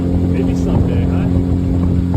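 Outboard motor on a small skiff in an Alaskan cove, a close, loud, steady hum with a constant low pitch and wind rush over it.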